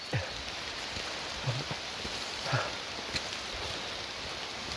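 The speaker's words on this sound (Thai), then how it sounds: "ฝนตกตีสี่" Rain falls in a forest before dawn, a faint continuous patter with a few louder nearby drops landing on leaves and surfaces, calm and distant, with no talking.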